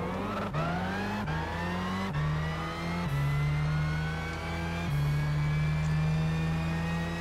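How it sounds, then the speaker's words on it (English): A race car in Gran Turismo 6 at Spa-Francorchamps accelerating hard, its engine note climbing through each gear and dropping at four quick upshifts, loud and steady with no voices. "Look at that acceleration from this car."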